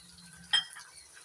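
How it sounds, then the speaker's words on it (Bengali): Spice powders (chili paste, coriander, cumin and turmeric) stirred and fried in a pan for Bhola bhetki fish curry: a quiet sizzle with one short scraping stir near the middle, no voices. "নাড়াচাড়া করে মশলাটা কষিয়ে নিচ্ছি"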